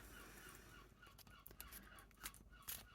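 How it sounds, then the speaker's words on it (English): Seagulls screech faintly in the distance on the coast of the Scottish Highlands, a few short, scattered cries over a quiet background. "If you can hear any seagulls screeching in the background"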